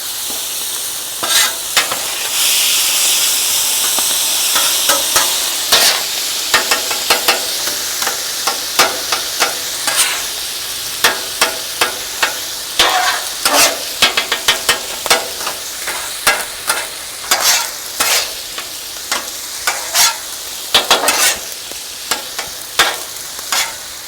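Fried rice stir-fried with eggs, soy sauce and sesame oil sizzles loudly in a hot pan, with a continuous frying hiss broken by repeated sharp scrapes and clanks of a utensil stirring.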